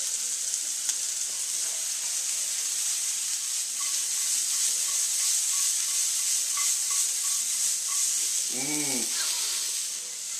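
Vegetables sizzle steadily in hot oil in a sauté pan, a close, continuous frying hiss with faint stirring, briefly interrupted near the end by a short spoken word.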